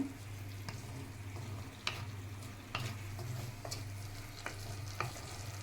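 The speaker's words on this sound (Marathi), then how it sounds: "ही ते प्युरी जी केलेली आहे तिला तेल पर्यंत चांगलं फ्राय करून घेते" Tomato puree fries in oil in a pan for pav bhaji, a soft steady bubbling sizzle with periodic spoon scrapes and taps against the pan, under a low hum.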